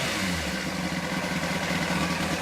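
A motorcycle engine idles steadily just after starting on a cold engine with the choke off, a continuous close mechanical rumble with no voices.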